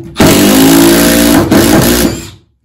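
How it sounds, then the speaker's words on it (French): A loud, close impact driver hammers a stainless steel screw into a hard piece of oak in one continuous buzzing run with a brief dip partway through, then stops. "si je visse avec ma visseuse à choc dans un bout de chaîne un peu dur"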